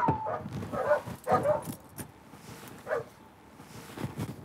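Dogs bark in short bursts nearby, several sharp yaps in a row, then a pause and a few more.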